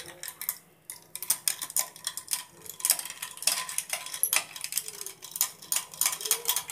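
A spoon stirs chilled milk and Rooh Afza rose syrup in a glass, making quick repeated clinks and taps against the sides in a busy, close rhythm.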